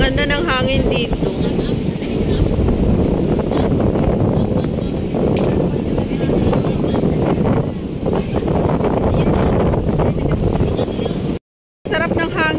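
Wind outside VivoCity in Singapore gusts and buffets the microphone with a continuous loud roar, while a voice talks faintly beneath it.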